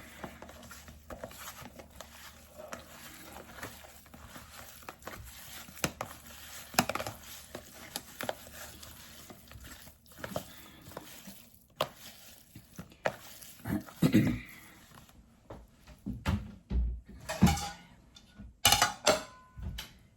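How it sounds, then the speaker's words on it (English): Ground beef worked together with onion and garlic by hand for jerky, a soft, irregular squishing and patting close by, with occasional sharper knocks toward the end. "I'm just going to kind of mush the meat around in the onion and the garlic to mix it all together"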